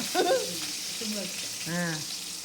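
Steady crackling sizzle of oil frying in a pan while cooking Kaanum Pongal, with brief louder spits, and a voice speaking briefly near the end.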